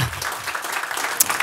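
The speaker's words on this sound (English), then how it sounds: "a big round of applause for you as well." Audience applause fills a short stretch at a panel talk on the future of retail and city life, an even patter of clapping from a room of people.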